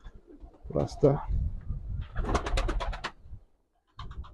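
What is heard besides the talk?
birds cooing in a coop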